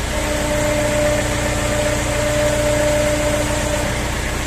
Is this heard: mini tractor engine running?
yes